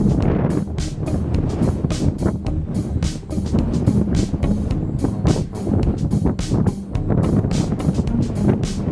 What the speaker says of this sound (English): Just got to fight the wind.